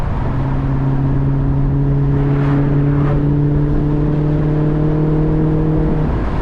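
A Maserati GranTurismo engine hums at a steady high pitch, revving continuously and loudly throughout with a faint whir.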